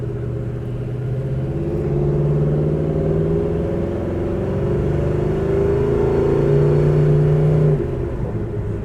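A 1969 Chevelle SS 396 with a solid-lifter 375-horsepower engine rumbles loudly and close while cruising, a deep, steady growl that swells slightly as it pulls, with no speech.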